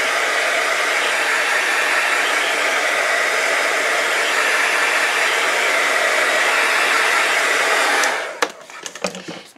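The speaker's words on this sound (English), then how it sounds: "I'm going to hit that with a heat gun" Heat gun blowing hot air onto stamped paper for eight steady seconds, a loud constant broadband roar, then cutting off into a few brief clicks and rustles.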